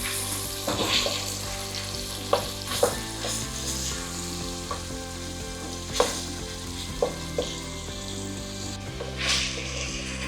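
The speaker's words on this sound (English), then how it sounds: "So you have to give this a nice stir" A Ghanaian jollof base fries in oil while being stirred: a steady sizzle sits under several distinct spoon scrapes and knocks at irregular intervals, with no talking.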